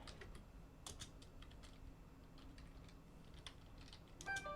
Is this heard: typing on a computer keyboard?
yes